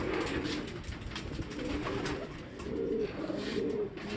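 Racing pigeons, three cocks and a hen, cooing in a loft during club training, overlapping low throaty coos that pulse and swell, close and continuous.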